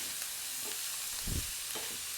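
Onion, green chilli and garlic sautéing in a pan for a tapioca adai batter, giving a faint, steady sizzle with a brief low stir or thud in the middle.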